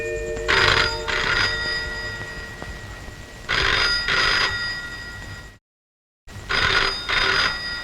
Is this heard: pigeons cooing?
no